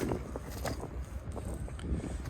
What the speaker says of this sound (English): Man, that wind's doing a terrible job today for me.